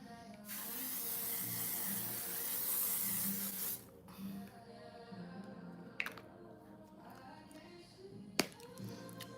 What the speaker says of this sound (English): This is the Infallible Defy Transfer, I guess, makeup setting spray. Literally is like hairspray.